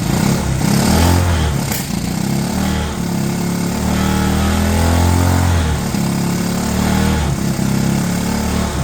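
A 1970 Honda US90 barn-find motorcycle engine idles steadily and close up, a continuous low chugging drone with slight fluctuations throughout and no talk.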